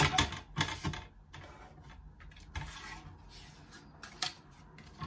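Paper trimmer slicing white and black card squares diagonally for a flower pop-out card, giving a series of close, sharp sliding cuts and clicks with irregular pauses between strokes.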